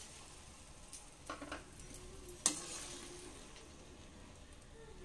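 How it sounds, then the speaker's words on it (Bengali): Katla fish curry with beaten yogurt sautéing in a pan, a faint low sizzle with a few soft stirring scrapes and one sharp clink of utensil against the pan. "এটা দিয়ে আমি আরো 3-4 মিনিট কষে নিলাম।"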